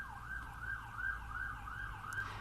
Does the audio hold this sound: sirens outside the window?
yes